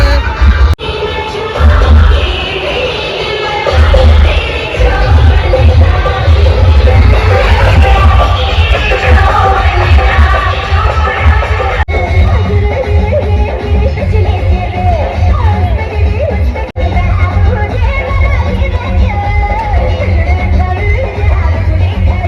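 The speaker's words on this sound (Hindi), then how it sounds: "फुल भीड़ है." A dense village crowd gathered for an outdoor dance competition makes a continuous loud roar of chatter and shouting, with occasional yells and cheers rising above a heavy low rumble.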